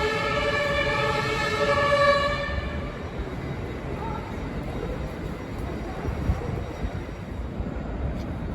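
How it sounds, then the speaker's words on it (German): An S-Bahn train pulls out of Berlin-Spandau station, a rising whine with tonal hum fading into a steady rumble of wheels and rolling stock, fairly close and sustained throughout. "Meine S-Bahn zur Messe hat schon Ausfahrt."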